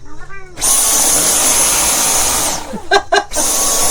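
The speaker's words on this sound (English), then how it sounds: "Vacuum your cats" A vacuum cleaner roars loud and close aboard a sailboat at anchor as it is run over a cat, a steady high whine that cuts out briefly with a few bumps before starting again.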